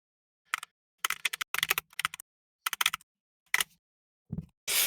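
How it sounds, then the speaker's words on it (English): Bursts of quick keyboard clicks come in short, irregular runs with brief pauses between, crisp and close in a quiet room. "I can hear the typing."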